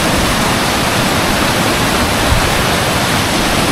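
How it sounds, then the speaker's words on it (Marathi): Kelavali Waterfall in Satara roars as a steady, loud, dense rush of falling water, continuous and broadband with no voices over it. "हा इथे एक वॉटरफॉल आहे."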